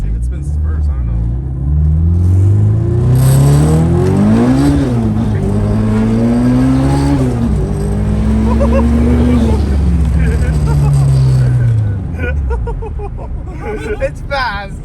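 Turbocharged K-series engine in a Nissan S14 accelerating hard, the loud rising drone climbing through several pulls with gear changes before easing off near the end, with people talking and reacting over it.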